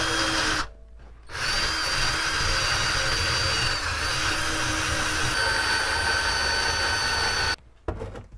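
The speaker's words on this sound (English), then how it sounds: "I'm going to use a drill and a rotary wire brush to take off the rest." A hand drill spins a rotary wire brush to strip rust and paint off a motorized bike part, a loud steady whirring grind that runs for several seconds, with brief pauses near the start and the end.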